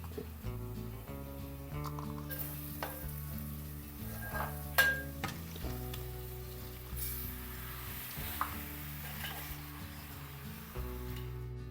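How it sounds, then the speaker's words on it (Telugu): Ginger, garlic and turmeric frying in a pan for chicken curry give a steady close sizzle, with occasional stirring scrapes and light clinks over continuous background music. "ఇప్పుడు అల్లం ఎల్లిగడ్డ వేస్తా పసుపు"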